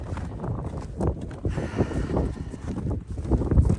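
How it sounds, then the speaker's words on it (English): Gusty wind blows outdoors near a horse, roaring in uneven, blustery waves with low rumbling buffets against the microphone, loud and close throughout. "You can really hear that wind, hey? And it's not pleasant."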